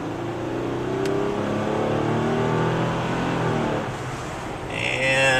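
A 2011 Toyota Avalon V6 accelerating hard on a road, heard from inside as a steady, rising engine drone with harmonic whine building over several seconds and climbing toward the end.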